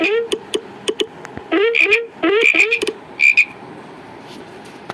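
Frogs croak loudly and close up in quick repeated bursts, some calls overlapping into short chattering runs, with brief quiet gaps between groups.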